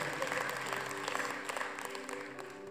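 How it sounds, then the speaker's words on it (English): Church congregation clapping during a sermon, a steady, moderately faint patter of many hands, with the room's murmur underneath. "I'll clap for myself, somebody."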